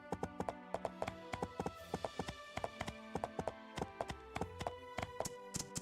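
Rhythmic clip-clop of horse hooves in the video game My Time at Portia, many sharp hoof strikes in a steady trotting pattern with no talking.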